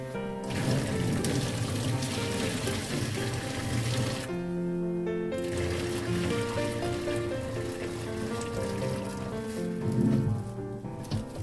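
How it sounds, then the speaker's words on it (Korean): Water poured off a pot of Korean hanwoo beef bones after five minutes of boiling: a steady, close splashing stream for about ten seconds with one short break, no voices. "끓은 지 5분 정도 지났을 때 물을 따라 버려주세요."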